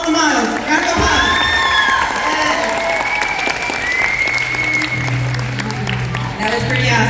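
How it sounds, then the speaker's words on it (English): Crowd at a school fashion show claps and cheers for the models, loud sustained applause mixed with shouts and whoops, with voices talking and calling over it. "another round of applause for all the models"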